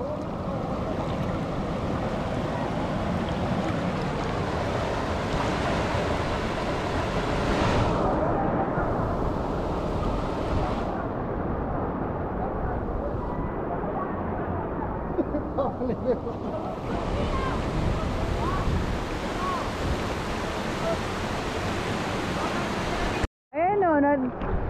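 Sea waves at Tofino, a constant loud roar of surf mixed with heavy wind buffeting the microphone, continuous throughout, with people talking now and then underneath.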